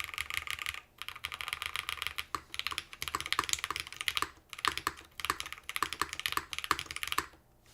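Typing on a mechanical keyboard being reviewed, with felt at the bottom of the case: brisk bursts of clicky keystrokes, close and fairly quiet, broken by short pauses, with no talk.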